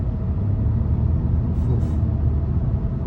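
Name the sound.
2022 Honda Insight Touring accelerating at half throttle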